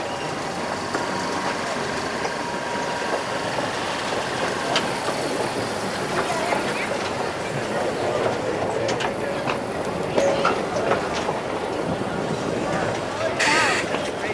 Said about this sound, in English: And here comes a train from that line.